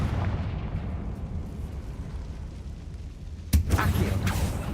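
A Confringo spell explodes in Hogwarts Legacy, a sudden sharp blast near the end after a stretch of rumbling background ambience.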